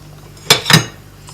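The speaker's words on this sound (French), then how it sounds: "Là, je mets le sucre." Two quick metallic clinks of a spoon against a bowl, about a quarter second apart, while sugar goes into a chocolate cake mixture with soft butter; close and fairly loud in a quiet kitchen.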